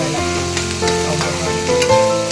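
Chopped onion frying in hot oil, a close, loud sizzle with the scrape and rustle of stirring across a short, unbroken span.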